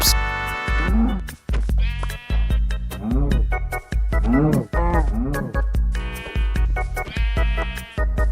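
Minecraft sheep bleat over and over in quick, loud succession, a string of wavering calls close by with short gaps between them.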